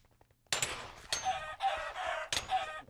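A Minecraft chicken clucks in several sharp, close bursts, each a loud squawk separated by short pauses, with no talking.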